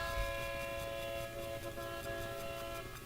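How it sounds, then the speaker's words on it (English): A train horn sounds steadily with sustained tonal notes over a low rumble of rail cars, moderately distant and fairly faint, continuing for a few seconds with no talk. "There's a 5 o'clock whistle going on there."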